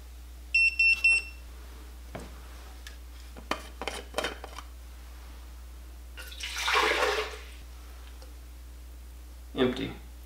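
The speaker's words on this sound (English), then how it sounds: "I'm going to pour the water out that's already in it." Water poured out of a hydrogen water bottle: a short splashing gush in the middle, preceded by a beep and scattered clicks and handling knocks, with a brief splash near the end.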